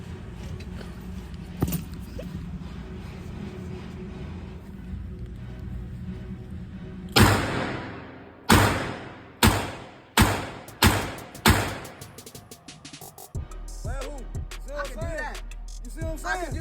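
Guns with light recoil fire at a gun range: five or six loud, sharp shots spaced roughly a second apart, following a stretch of quieter background noise and a single earlier bang.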